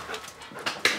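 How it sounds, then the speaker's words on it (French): A police sniffer dog at work gives a short burst of close sniffs and soft panting, rising to a louder snort near the end, with no talk. "Le chien renifleur va aussi faire quelques découvertes."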